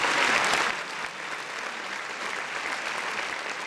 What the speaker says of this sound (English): I gotta give another round of applause